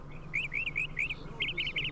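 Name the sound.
birds chirping outside, from video game You Don't Know Jack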